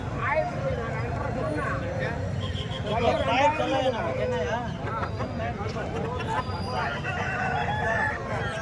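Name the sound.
roosters crowing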